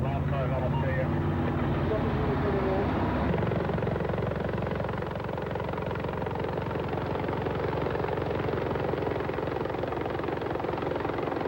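A highway patrol rescue helicopter's steady rotor thrum and engine whine run throughout, fairly loud and continuous, with voices faintly mixed in beneath.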